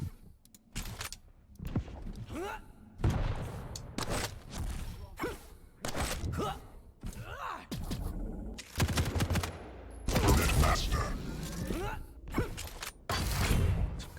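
Railgun shots ring out in a Quake Live tournament finals match: a rapid series of sharp, cracking blasts, some in quick clusters, mixed with other in-game effects while a commentator talks over them.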